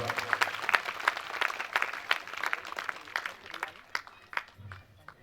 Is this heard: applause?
yes